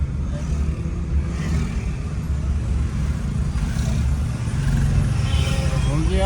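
A small tempo taxi carrying passengers drives through Kathmandu traffic, its engine giving a steady loud rumble from inside the cab with continuous road noise and a faint rising whine near the end.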